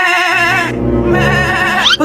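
A goat bleats loudly and close up in a single drawn-out, wavering cry used as a comic sound effect, alone with no talk.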